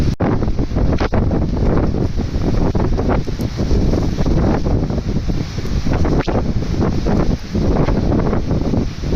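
Strong wind on the Arctic Ocean shore buffeting the microphone in a loud, continuous roar with gusty surges, waves mixed underneath, no voices.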